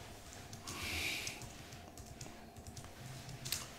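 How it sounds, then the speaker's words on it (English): Fingers type a name on a computer keyboard in a quiet room, giving a soft, irregular run of light key clicks heard up close with no talk. "we'll just type the whole thing"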